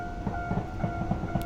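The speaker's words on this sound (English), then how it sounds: "I need to get the whole train into this siding here and back her up into Kitauchi Station" A JR West 103 Series train in a railway simulator game runs along the track at low speed, with a steady hum and evenly spaced clicks from the wheels passing rail joints.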